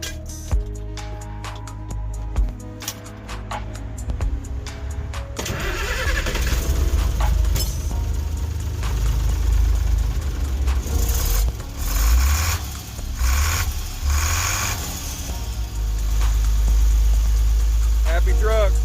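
An International DT466 diesel truck engine, just refitted with a new cylinder head, cranks with rapid clicks and then fires into a loud, rumbling idle that settles and holds steady. A voice speaks briefly near the end.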